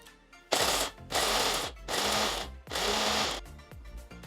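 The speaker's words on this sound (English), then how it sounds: "Now we'll grind all these ingredients." Mixer grinder whirring through thandai masala premix ingredients in three loud, steady bursts of about a second each, separated by short pauses, with no talking.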